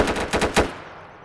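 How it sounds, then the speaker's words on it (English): A quick rattle of about five gunshots in the Roblox game Town, close and sharp, fired in a fast burst that fades out within a second. "I hear gunshot."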